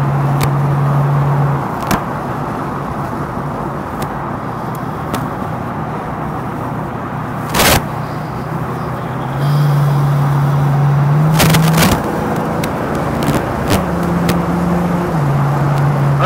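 A 1937 Ford street rod drives along with a steady, full engine drone that shifts slightly in pitch as it cruises, heard up close and continuously without speech.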